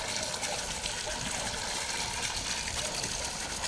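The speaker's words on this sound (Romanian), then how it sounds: "Și apă curentă, apă curentă." Running water pours steadily into the first basin of a fish pond, a continuous broadband gushing and splashing at a constant level with no other sounds.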